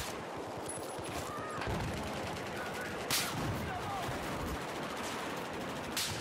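Rapid automatic gunfire in the video game Battlefield 4, from the RPK-12 light machine gun, with repeated bursts and single cracks of varying distance forming a busy, continuous fusillade.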